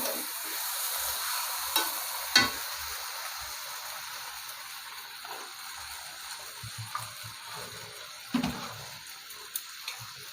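Fish head and Malabar spinach stirred with spices in a pan, a soft continuous sizzle and hiss with a few scattered clinks and scrapes of the spoon against the pan.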